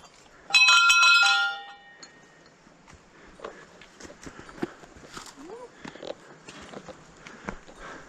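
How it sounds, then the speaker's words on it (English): A bell rings out once, bright and loud, and decays over about a second on a backpacking trek in Nepal. Footsteps and people talking follow afterward. "Ring the bell."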